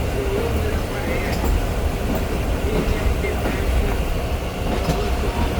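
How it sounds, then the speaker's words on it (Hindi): Subak Raftar railcar train pulling out of Lala Musa Junction: a steady, loud rumble and rattle of the carriage over the rails with faint clicks throughout, heard from inside the train. "5 से 7 मिनट स्टॉप के बाद हमारी ट्रेन रवाना हो रही है"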